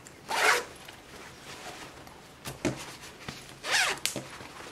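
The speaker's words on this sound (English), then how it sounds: "Zip it up, cow fits." A zipper closing a small fabric pouch, two or three close, quick zipping strokes separated by brief pauses, heard alone.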